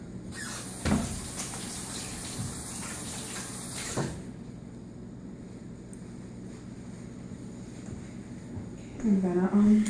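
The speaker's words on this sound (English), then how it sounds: "I'm gonna already wash my hands." Hands are washed under a running tap, with a steady rush of water over low background rumble, an abrupt knock early on, and a short burst of voiced sound near the end.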